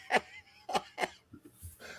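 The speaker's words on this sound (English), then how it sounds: "Number 6, cough up a hairball." A cat gives a few short, harsh hacking coughs, then softer retching sounds while coughing up a hairball, close and fairly quiet.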